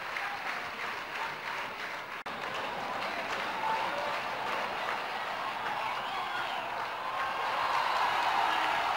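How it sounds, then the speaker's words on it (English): Cricket crowd applauding a batsman at a stadium in Sharjah during an India vs Pakistan match, a steady, distant wash of clapping and crowd noise that carries on throughout. "Fine applause for Manjrekar."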